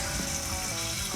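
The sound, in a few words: toilet flushing and refilling after water level adjustment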